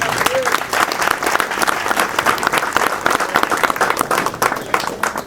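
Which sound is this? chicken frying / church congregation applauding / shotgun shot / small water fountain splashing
church congregation applauding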